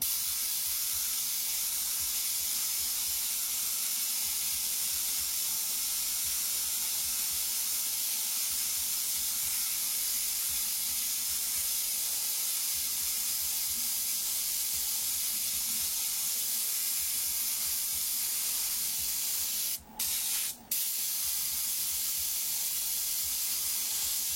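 Steady, loud hiss of a paint spray gun running continuously, broken only by two brief cutoffs near the end, with no voices.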